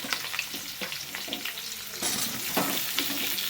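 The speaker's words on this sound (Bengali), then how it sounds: "তেলটা গরম হয়ে গেছে, এবার আমি পটলগুলো সব দিয়ে দেবো। পটলগুলো লাল লাল করে সুন্দর করে ভেজে নেব।" Pointed gourd (potol) pieces frying in hot oil, a steady broadband sizzle that rises and thickens partway through, with occasional stirring scrapes close by and no talking.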